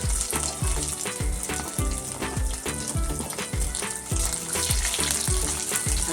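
Coconut pieces frying in hot oil with popping mustard seeds, a dense continuous sizzle with rapid crackles and pops throughout, close and fairly loud, with no voices.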